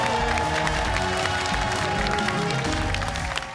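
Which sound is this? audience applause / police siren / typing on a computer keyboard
audience applause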